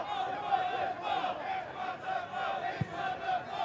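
Spectators at a Potters Bar Town versus Barnet football match chant and shout together in a steady, rhythmic crowd din, heard from a distance, with one sharp thump partway through.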